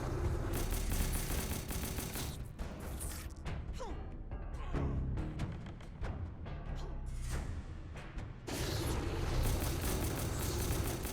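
Rapid bursts of gunfire from a gun in Fallout Shelter crackle almost without pause, loud dense volleys that thin briefly in the middle and then surge back over constant game noise.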